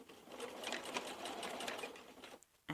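A sewing machine runs steadily, stitching patch pockets onto dungarees in a close, continuous whir for over two seconds, then stops briefly before a short restart at the end.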